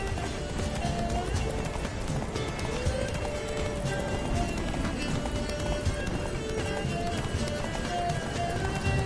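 Roach, the horse in The Witcher 3, gallops in a steady, continuous rhythm of hoofbeats under dense game music and ambience, close and constant throughout.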